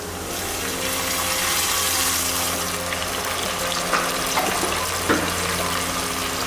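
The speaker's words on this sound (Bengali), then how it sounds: "এখন আমি এর মধ্যে যেটা দিব সেটা হচ্ছে একটুখানি গরম পানি" Hot water gushes steadily into a pan of fried fish and potato curry base, a broad rushing pour with a low hum underneath and a few small clinks near the end.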